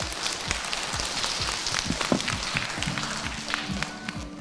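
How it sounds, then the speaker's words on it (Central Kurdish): A group of young children at a kindergarten clapping together in a burst of quick, dense, somewhat scattered applause that carries on steadily for a few seconds. "یەک چەپڵە بۆ ڕێدی لێبەر"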